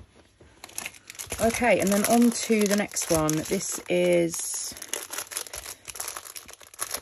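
Crinkly rustling of a plastic bag holding a 30 by 40 diamond painting kit, handled on and off close by for several seconds while someone talks over it.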